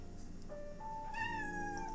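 A pet cat gives a short, clear meow, close and fairly quiet, with no talking.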